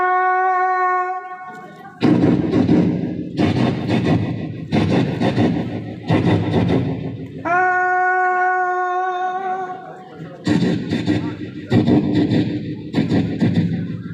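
A student mimicry performer imitates a train, alternating long steady whistle-like hoots with rhythmic chugging bursts, loud and close, repeating several times.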